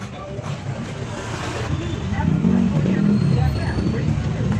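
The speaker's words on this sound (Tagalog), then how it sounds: "Ayun, traffic oh." Street traffic on a busy road near a school at pickup time, with cars passing and engines rising to a steady, fairly loud rumble while people talk nearby.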